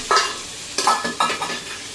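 A spoon scrapes and stirs biryani with small-cut potatoes in a pan at home, giving several short bursts of scraping over a faint frying sizzle, fairly close and with no talk.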